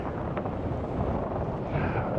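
Strong wind sweeps over coastal sand dunes, battering the microphone in a continuous close rumbling roar with shifting gusts.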